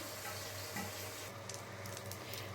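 Pabda fish frying in hot oil, a soft continuous sizzle close by with faint stirring scrapes, no talk.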